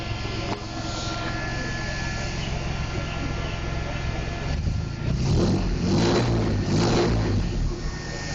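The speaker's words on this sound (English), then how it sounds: "dual 2-inch exhaust on it I finished with Cherrybomb glasspacks. They're split, there's no white pipe, so 3 cylinders per bank on the exhaust. Has that nice crack to it." A 1984 Dodge D150 with a 225 slant six, dual 2-inch exhaust and Cherrybomb glasspacks idles with a steady rumble, then revs hard in loud, cracking bursts up close, with a voice briefly audible.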